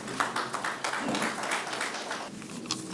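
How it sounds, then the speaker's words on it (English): An audience at an official government observance in Manipur applauds, a dense, moderately loud crowd clapping that continues steadily for a few seconds. "A round of applause, please."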